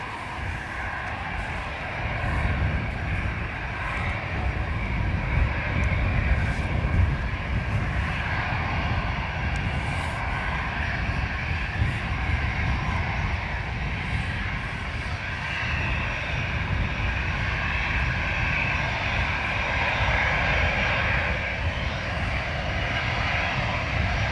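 Aircraft on flight EI208 to Manchester at Dublin Airport on a wet, windy day, its engines producing a steady, loud low roar that holds for the whole stretch without breaks.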